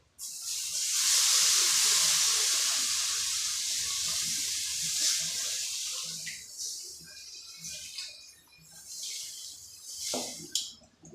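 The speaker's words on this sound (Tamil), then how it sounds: "இது கொஞ்சம் அப்படியே கொதிச்சுட்டு இருக்கட்டும்." Tamarind water poured into a fish curry, starting to boil with a loud steady hiss that fades into gentler bubbling and a few scattered clinks near the end.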